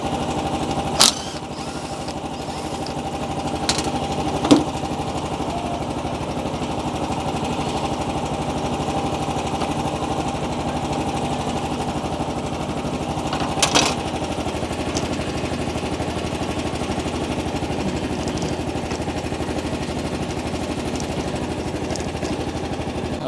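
A Pluk-o-Trak engine runs steadily after a new spark plug is fitted, a constant mechanical drone that holds for the whole stretch, broken only by a few sharp clicks and knocks.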